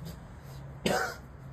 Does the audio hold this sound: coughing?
yes